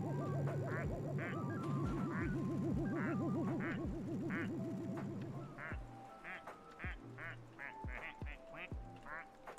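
Ducks in a Pokémon video game quack in quick repeated bursts over a warbling synthesized music loop, the quacks growing sparser and more scattered after the music drops away.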